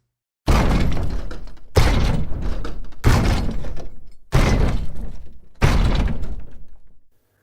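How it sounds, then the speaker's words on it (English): Layered ski boots, a car door and a walking support combined into creature stomp effects: five heavy, booming crunching impacts about a second and a half apart, each decaying before the next, loud and close. "And to create those sounds, I use ski boots,"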